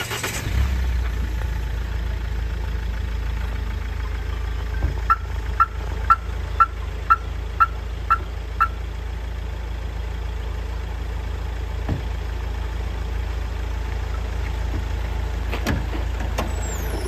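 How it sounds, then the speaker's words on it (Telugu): A 2016/17 Mahindra XUV500 W10 engine runs at a steady low idle, a constant rumble heard close, with a short run of regular ticking clicks early on and a couple of faint knocks later. "ఇంజన్ చూడండి, ఒకసారి మొత్తం ఇంజన్ చూపిస్తాను మీకు."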